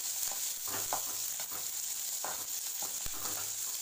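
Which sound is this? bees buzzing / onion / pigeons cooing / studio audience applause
onion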